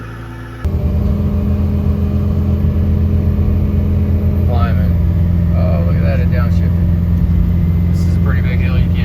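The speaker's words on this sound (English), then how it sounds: "This is a pretty big hill, you can't tell, but this is the first hill on the drive, and we're every bit heavy." Freshly rebuilt Ford 6.0 Powerstroke diesel truck, heavily loaded, climbing a big hill: a loud, steady low engine drone that rises after a downshift, with speech over the rumble.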